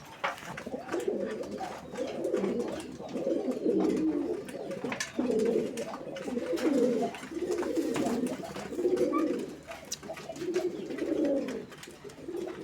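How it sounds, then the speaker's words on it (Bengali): A pigeon coos again and again in low throaty rolls at a steady rhythm, close and clear, with faint background noise and no talking. "আপনারা দেখতে পাচ্ছেন কি পরিমাণ ডাকে কবুতরটা"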